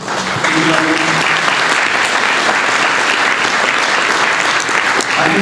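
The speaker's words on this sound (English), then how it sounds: "if we can give them a big round of applause for Mr." An audience at the British Forces Foundation Morale Awards gives a loud, sustained round of clapping that fills the hall from start to finish.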